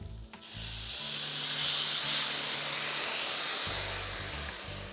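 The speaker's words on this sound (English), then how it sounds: "Deglaze your pan with white wine" Pinot Grigio white wine sizzles hard in a hot pan as it deglazes, a loud continuous hiss swelling after the pour and holding steady with faint low clatter underneath.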